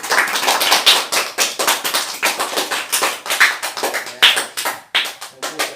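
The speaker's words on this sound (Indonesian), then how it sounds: "Sikap luar biasa, tepuk tangan." A small group claps in a classroom-style practice session, with loud, close, irregular hand claps in quick bursts for the whole stretch and no talking over them.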